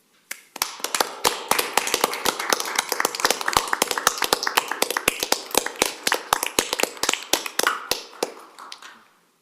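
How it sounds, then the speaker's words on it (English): Staff applauding at a Metro Council meeting, a round of distinct, close hand claps from a modest group, fairly loud and rhythmic, building after a quiet start and tapering off near the end. "please stand up for a round of applause"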